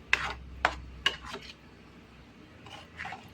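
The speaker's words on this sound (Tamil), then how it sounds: "அது வரைக்கும் நம்ம கிளறிக்கலாங்க." Pineapple kesari being stirred in a pan: three or four sharp scraping strokes close by, then a softer, faint rubbing that trails on without voices.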